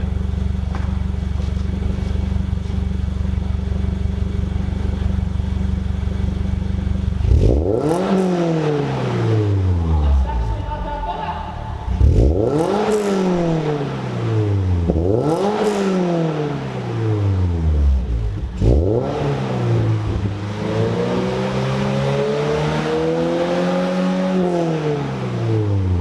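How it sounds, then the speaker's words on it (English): A 2022 Subaru BRZ with a MagnaFlow exhaust idles steadily, then the engine is revved in four loud, close blips, each climbing and falling back toward idle. "Let's kind of give it a little bit of a little bit of gas, see what it sounds like"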